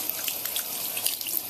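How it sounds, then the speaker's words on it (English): A makeup brush rinsed under a running tap of clean water, a steady close hiss of flowing water with small splashes and drips, brief and continuous. "Work the clean water in, just like we did the soapy water."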